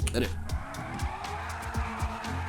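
A truck in the GTA V video game does a burnout, its tires squealing in repeated short bursts over engine rumble, fairly quiet and with a voice talking alongside.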